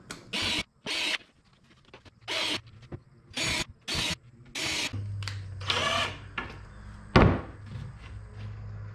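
A drill drives screws into a workbench in short, loud bursts of whirring, roughly one every second, followed by a longer run and a single sharp knock near the end.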